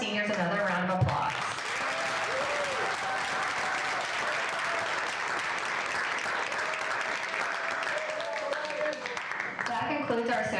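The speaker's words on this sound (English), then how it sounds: "Let's get all of our seniors another round of applause." Crowd applause for senior players at a varsity softball ceremony, steady clapping from a gathered audience after a brief spoken announcement, with voices talking over the end as it fades.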